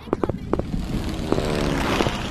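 A propeller airplane passes in a World War I video game, a rising engine drone under scattered sharp in-game noises and clicks.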